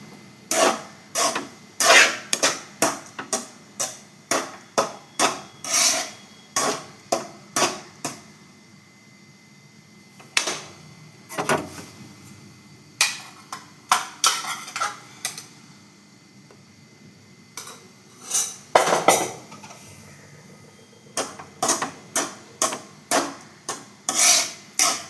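Lemon rice being stirred in a pot with the stove switched off: repeated scraping rubs of a spoon against the pot in steady rhythmic bursts, with brief pauses, close and fairly clear.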